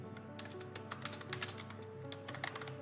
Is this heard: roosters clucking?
no